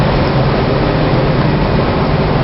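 A subway train passes on the opposite platform, a loud, steady low rumble and rushing roar that holds at an even level for the whole short stretch.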